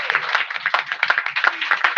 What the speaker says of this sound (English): I think if we applaud really loud, we'll make her feel right at home